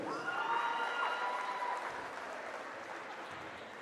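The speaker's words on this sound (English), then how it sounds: "How about another big round of applause for all of our seniors here at Arlington High School?" Applause rises from the crowd at a high school senior night during a girls' basketball game in a gym. The clapping is moderately loud at first and tapers slightly, with a faint tonal ring early on.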